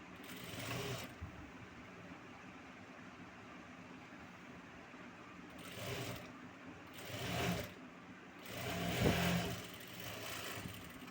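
A sewing machine stitches the hem of a frock made from a saree, running in several short whirring bursts with quiet pauses between them.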